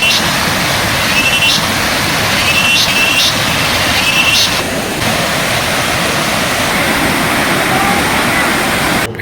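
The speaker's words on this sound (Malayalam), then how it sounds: "എല്ലാവരും വെള്ളച്ചാട്ടം കാണാൻ പോവുക." A waterfall near a hill resort in Vagamon produces a loud, constant roar of rushing water that fills the whole stretch, with a few faint higher tones over it.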